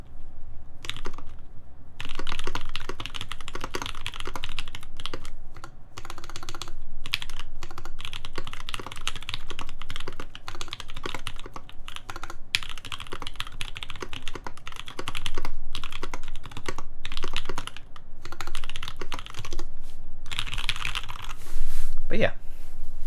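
Continuous typing on a Decent65 mechanical keyboard during a typing test, a dense stream of fast keystroke clacks picked up by a close microphone, with steady rhythm and brief pauses.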